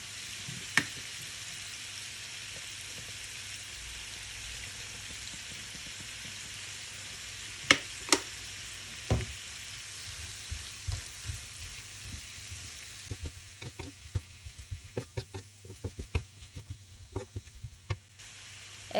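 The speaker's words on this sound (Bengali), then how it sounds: "এখন এগুলোকে একটু মিশিয়ে দিয়ে দিচ্ছি" Capsicum and egg noodles sizzling in a pan with soy and tomato sauces, a steady frying hiss followed by a run of quick spatula clacks and scrapes as everything is stirred.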